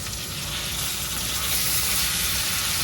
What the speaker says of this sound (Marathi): थोडा वेळ टोमॅटो लूज पडेपर्यंत आपण परतून घेऊ.